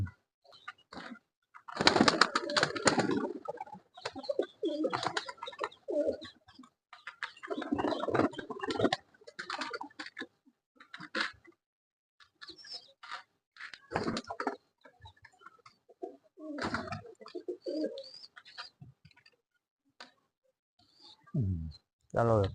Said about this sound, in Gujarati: આપણો કબૂતર ચણે કઈક આ રીતના.